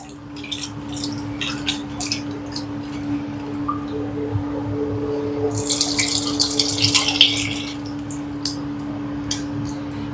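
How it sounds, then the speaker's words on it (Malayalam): Tamarind water is poured into a shallot curry, giving a wet splash and gurgle that builds in the middle. Scattered clinks and a steady low hum sit underneath. "പുളിനെ അങ്ങോട്ട് ഒഴിച്ചു കൊടുക്കാം."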